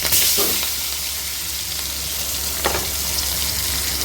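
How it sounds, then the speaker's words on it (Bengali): Boiled potatoes sizzling and frying in oil in a pan for a rohu fish curry, a steady loud hiss with a couple of stirring clatters, close up. "আলুগুলো এবার আমি একসঙ্গেই ভাজব"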